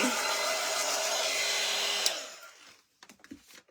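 A hair dryer blows steadily on a painted wood craft piece for about two seconds, then cuts off, leaving a few faint handling clicks and taps.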